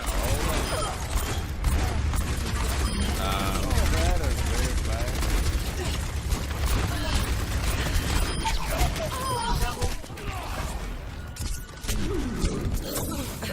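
Gunfire from shooting robots in the video game Overwatch, a dense, nonstop barrage of rapid shots and mechanical effects layered with other busy game audio throughout.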